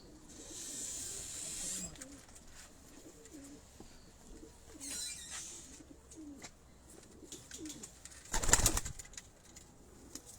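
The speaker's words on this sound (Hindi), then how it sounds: "अब देखें इन कबूतरों को, ये दोनों जो हैं ये एक ही सनफ है, गोल्डन सनफ से हैं ये कबूतर" Golden pigeons coo in soft, repeated low phrases during a rooftop pigeon show, with a brief loud rustling burst near the end.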